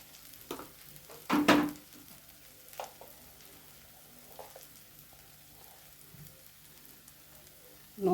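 Masala spices fry quietly in a pan with a soft background sizzle, broken by a few scraping stirs, one louder spoon scrape standing out near the start.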